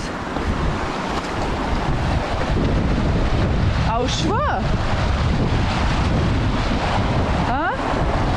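A mountain river near Mangart rushes steadily and loudly throughout, its roar mixed with wind buffeting the microphone, while people briefly talk over it.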